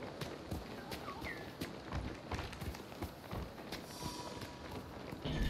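A horse in the samurai video game Ghost of Tsushima walks with a steady, quiet clip-clop of hooves, moderately close, mixed with faint ambient game sounds and no talk.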